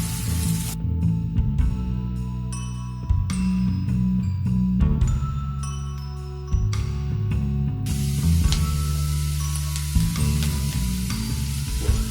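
Curry leaves and onion sizzle and crackle in a hot pan for Schezwan veg fried rice, a loud, continuous frying hiss broken by stirring scrapes and bursts of spitting oil.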